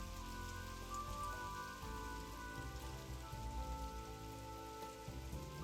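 Heavy rain pours steadily over a misty, fog-bound coastal rainforest on the Rain Coast, a dense continuous hiss with no voices.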